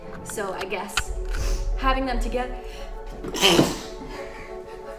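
A single sharp sneeze bursts out mid-conversation during a casual Halloween history chat, loud and close, with people talking before and after it.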